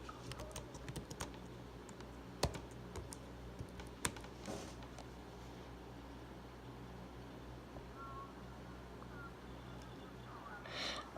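Someone types on a computer keyboard in quick, uneven bursts of light clicks, fairly faint over a low background hiss, with a final cluster of keystrokes near the end.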